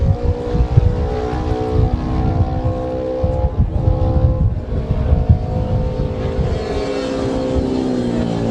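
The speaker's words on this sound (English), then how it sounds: "Very close racing now between number 50, Peter Symes, the first of the 250s, and number 22, Arthur Browning, on his AJS Seb Mar" Racing motorcycles on a road course, a 250 class machine and an AJS Seb Mar among them, roar continuously at close range with a steady, loud engine drone that rises slightly in pitch toward the end.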